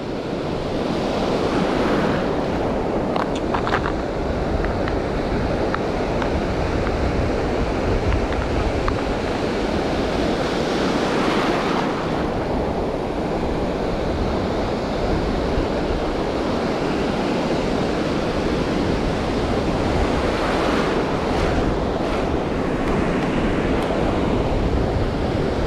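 Continuous roar of ocean surf breaking on a beach during wader fishing, with broad steady wash and occasional louder swells, plus some wind buffeting on the microphone.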